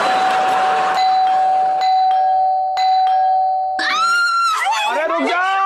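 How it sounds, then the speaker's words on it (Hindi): A doorbell rings several times in a row with clear chiming tones at steady intervals, loud and close. Voices then break in over the last stretch. "ये तो बार बार घंटी इतना कौन बजा रहा है?"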